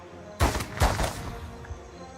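Firearm shots in the fantasy game Pillars of Eternity II: two sharp, loud reports about half a second apart, each trailing off into a lingering echo, followed by a faint softer thud.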